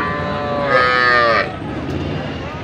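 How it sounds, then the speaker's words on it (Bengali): A crossbred heifer calf on a farm gives one drawn-out moo lasting under a second, close and clear, set against quiet background noise. "এইটা ক্রস জাতের বকনা বাছুর"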